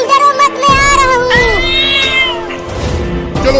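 A cartoon kitten meows in a series of high, drawn-out cries lasting several seconds, loud and close with a sustained, whining character.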